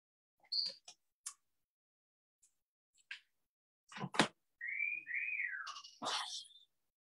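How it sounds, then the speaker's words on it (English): A pet bird gives a clear rising and falling whistle in a quiet room, preceded by several brief chirps and clicks, close and fairly loud with no talk. "Can you hear? She just whistled."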